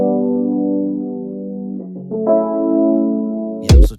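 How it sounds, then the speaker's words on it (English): A sampled chord progression from Splice for an Afro swing beat plays sustained, layered harmonic chords that shift partway through, ending in a short loud low thump, with no voices. "Then the next thing I added, I think, was this chord progression."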